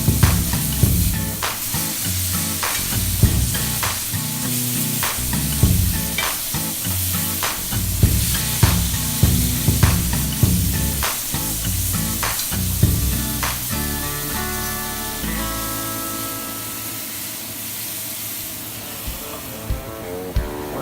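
Burgers fry and sizzle loudly on a hot surface with a steady crackling hiss, broken by scraping and tapping spatula strokes throughout, with no voices present.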